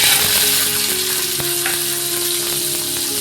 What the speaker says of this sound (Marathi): याच्यामध्ये थोडंसं तेल टाकते, हे बघा थोडंसं टाकते आणि हे वाटाणे आहेत ना हे टाकते